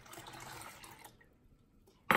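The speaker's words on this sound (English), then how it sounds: "This time, what we're gonna do is we're gonna go ahead and add more water." Water being poured while making homemade strawberry lemonade, a steady close splashing stream that fades out, followed by a sudden loud clunk at the end.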